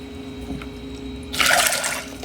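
Water pours into a pot of unsoaked pinto beans, a short steady splashing fill of about three cups that starts suddenly and runs close to the microphone.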